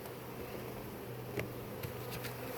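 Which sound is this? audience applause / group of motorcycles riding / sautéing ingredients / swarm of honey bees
swarm of honey bees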